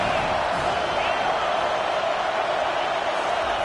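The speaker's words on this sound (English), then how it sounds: "Decibels rising as the crowd gets behind this defense on 3rd down." A stadium crowd at a college football game, Miami against Louisville, roars steadily and densely on a third down, a loud, sustained wall of noise.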